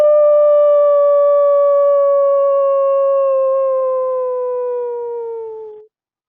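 A person's voice imitates a long wolf howl: one sustained, slowly falling tone that fades out after about six seconds, with nothing else around it.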